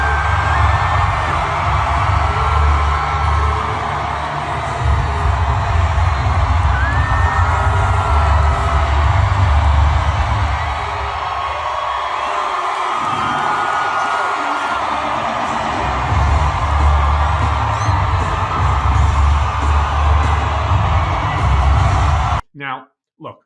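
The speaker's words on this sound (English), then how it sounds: "Obviously, you heard the enthusiasm, you hear the screaming, you see the crowd." A large crowd at a Kamala Harris rally in Michigan screams and cheers as she enters the stage, a loud sustained roar with thumping music underneath that briefly dips before surging again and then cutting off.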